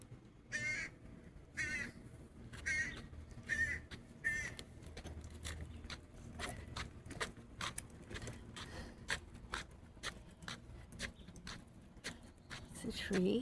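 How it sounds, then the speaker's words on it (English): A bird calls from a tree with a run of short, harsh caws, fairly close amid a busy outdoor background of clicks and rustles, while people talk quietly. "Can you hear the bird?"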